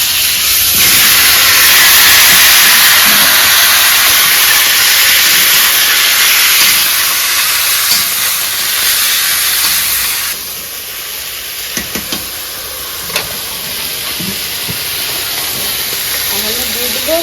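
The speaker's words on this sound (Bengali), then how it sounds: "এখন এই ফুলকপি আর আলু ভেজে নিব" Cauliflower and potato pieces frying in oil give a loud, steady steam-like hiss that eases after about ten seconds into a softer sizzle with a few small clinks.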